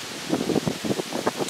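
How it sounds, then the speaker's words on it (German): Gusty wind rustles through forest leaves in bursts, a soft broadband whoosh that swells and fades over a second or so. "Und es ist übrigens ein bisschen windig heute im Walde."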